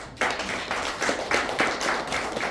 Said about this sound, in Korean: 여러분 박수를 한번 쳐주시기 바랍니다.